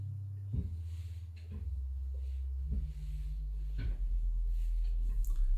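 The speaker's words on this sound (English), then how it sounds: "Then we've got the pedal of the organ," Deep pipe organ pedal bass notes from a Bückeburg organ sample set sustain one after another, each low tone droning steadily before shifting to the next pitch, with no voices.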